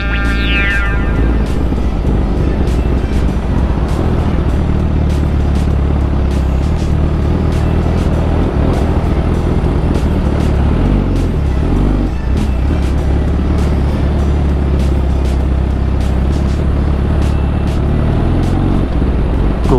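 Steady road traffic rumble while stuck behind a gas tanker truck, a continuous loud low engine drone with passing vehicle noise, heard from a motorcycle with no talking.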